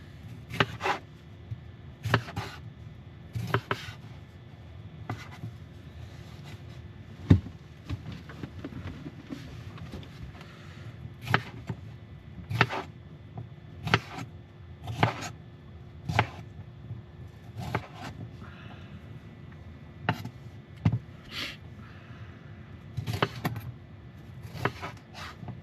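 A freshly sharpened knife chops on a wooden cutting board, with sharp, regular knocks repeating over a quiet background, fairly close and moderately loud.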